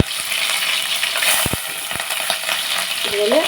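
Green chillies frying in hot oil for a curry, a continuous close sizzle and crackle broken by sharp spatula clinks and scrapes against the pan.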